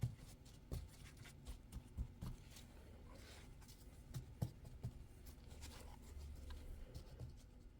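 A paper towel lightly pats and dabs wet acrylic paint on a canvas, giving soft, close, irregular taps and rustles at a low level with no voices.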